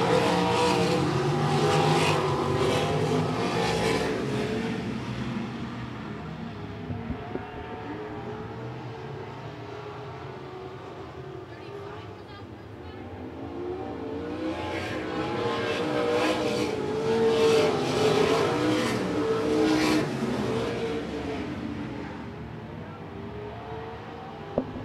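Sprint cars in a 305 sprint main event roar around the I-76 Speedway, engines rising and fading as the pack passes, swelling loud again later, with faint announcer commentary underneath.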